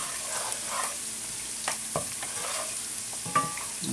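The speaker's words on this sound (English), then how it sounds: "First we've got to do this, brown the garlic." Garlic browning in a pan for a marinara sauce, giving a steady soft sizzle with occasional stirring scrapes and clinks throughout.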